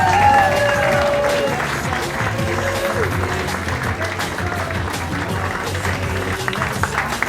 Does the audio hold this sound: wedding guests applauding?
yes